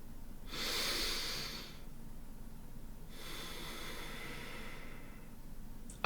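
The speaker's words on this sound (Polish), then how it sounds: "Czyli oddychasz mniej więcej w ten sposób" A slow breathing exercise demonstrated alone in a quiet room: two long, soft, airy breaths separated by a still pause, close and unhurried, with no speech.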